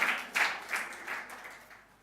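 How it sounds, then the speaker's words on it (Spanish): Church congregation clapping for Jesus after a pastor's prayer, a few scattered bursts of applause that fade and thin out into sparse claps over two seconds. "Dale un lindo aplauso a Jesucristo, el Señor."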